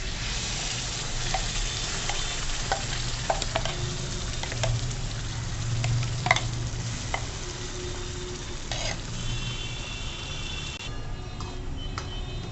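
Ground masala paste with turmeric and Malvani masala is sautéed in a pan on low heat for a Konkan-style jackfruit seed curry, giving a steady close sizzle broken by scattered scraping and tapping strokes of a spatula, with no talking.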